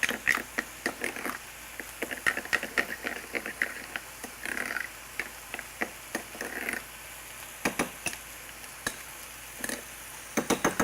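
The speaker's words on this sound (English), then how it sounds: "And stir it around till it's smooth." A spoon scrapes and taps around a pot as sauce for fries is stirred until smooth, giving irregular clinks and soft swishes close by, with no talk.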